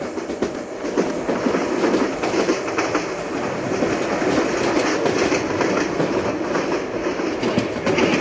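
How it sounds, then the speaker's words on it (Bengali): A train running in Train Simulator Bangladesh, with steady rolling rumble and rhythmic clickety-clack of wheels over rail joints, continuous and fairly loud with no speech. "গাইস, ট্রেনটা এখন কাঁপতেছে একদম, পুরো রিয়েলিস্টিক লাগতেছে মানে ইঞ্জিনটা।"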